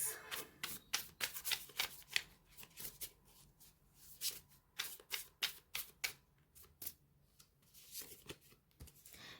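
Tarot cards drawn and handled during a card reading: soft, quick riffling, flicking and sliding of card stock in close, irregular bursts, quiet and with no voice.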